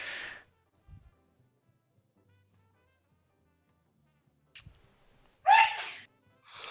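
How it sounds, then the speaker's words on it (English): A woman lets out a loud, sharp sneeze near the end of an otherwise quiet stretch, preceded by a brief breathy sound and followed by a faint trailing noise. "Steph sneezing"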